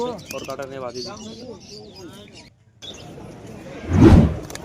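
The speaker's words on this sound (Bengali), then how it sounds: "হাটে প্রচুর কবুতর এসেছে এখানে" Pigeons coo and flutter close by amid a busy outdoor crowd at a pigeon market in Beldanga, with people talking over the birds and a loud burst of noise near the end.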